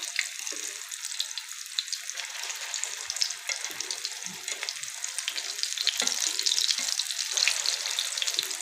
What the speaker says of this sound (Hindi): कटलेट्स हमारे एक तरफ से फ्राई हो चुके हैं, इनको एहतियात से पलट लीजिए।